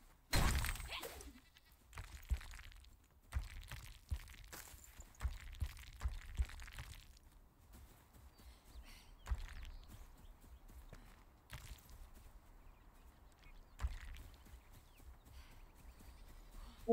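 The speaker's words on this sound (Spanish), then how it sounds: "Una cabra." A goat bleats a few times in the video game Enshrouded, mixed with hoof-like steps and clicks, fairly quiet.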